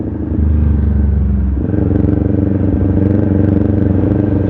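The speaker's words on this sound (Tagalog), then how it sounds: "Ang sarap talagang i-drive tong motor na to. Minagustuhan ko sa Ninja 400 na to mga katupa." A Kawasaki Ninja 400 engine runs close and loud with a steady throbbing drone, its pitch shifting partway through as the bike rides on.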